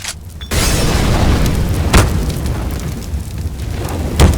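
A Molotov cocktail is thrown and bursts into flame in a video game: after a brief quiet start, a loud whooshing fire roar swells and keeps crackling, with a sharper burst near the middle and another flare toward the end.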